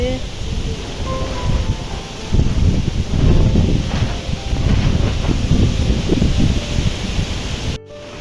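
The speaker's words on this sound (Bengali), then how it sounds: "ঠান্ডা কি জোরে ঝোড়ো বাতাস দিয়েছে" Strong, cold, stormy wind buffets the microphone outdoors as a loud, continuous rushing roar with gusty surges, cutting off abruptly near the end.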